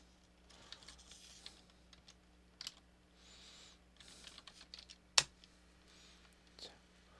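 Soft, scattered key taps come from a computer keyboard as a name is typed into a running Python program, faint and close over a low electrical hum, with one sharper click partway through.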